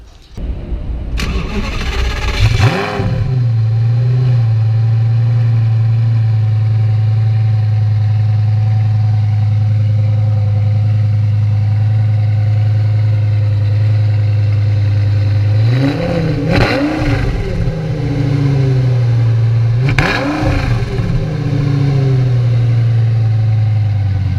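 A large naturally aspirated Lamborghini V10 engine cranks and fires up, then settles into a deep, steady idle, with two more sharp revs blipping later on.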